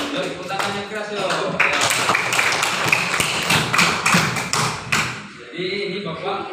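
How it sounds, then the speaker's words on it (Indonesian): A group of children in an elementary school classroom clap their hands loudly in a dense, sustained burst of applause, which thins and stops near the end as an adult voice speaks over it. "tepuk tangan yang keras yo"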